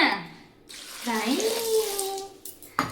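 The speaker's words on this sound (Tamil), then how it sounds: "ரெடி தண்ணி ஊற்றலாமா" Water is poured into a cooking pot in a home kitchen, making a steady splashing pour that rises in pitch as the pot fills, with a soft voice briefly in the background.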